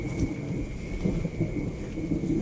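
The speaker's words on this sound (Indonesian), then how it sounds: "Kebetulan sedang banyak angin dan sehabis hujan ini" Strong wind after rain roars steadily and close, a rough gusting rush with low rumbling buffets and no voices.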